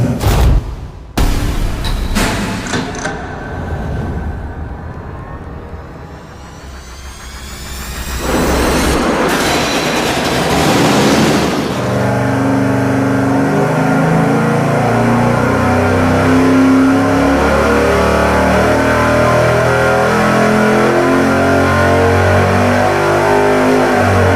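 A 408 cubic inch V8 with ported cylinder heads on an engine dyno, starting with sharp blips and a dip, then a loud sustained full-throttle roar that holds steady for over ten seconds, with no voices.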